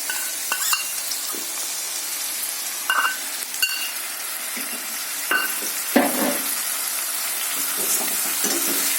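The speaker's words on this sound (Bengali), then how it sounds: "মশলাটাকে ভালো করে আমি কষি" Ground cumin, coriander and turmeric spice paste sizzles in a wok under steady stirring, with occasional scrapes and clinks of a utensil against the pan, close and moderately loud, no talking.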